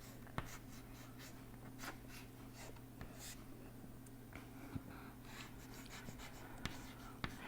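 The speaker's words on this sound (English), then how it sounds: "if I write a molecule in this fashion" A pen or chalk scratches out a chemical molecule structure during a chemistry lecture on decalins. Short scratchy strokes and taps come at an irregular pace over a low steady hum, fairly faint, with no talking.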